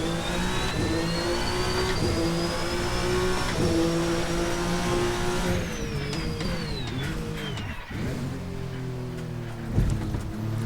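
Toyota TS050 race car engine in Assetto Corsa: a loud, high-pitched whine climbing through the gears, then dropping and revving again through braking and corners, continuous with no talk.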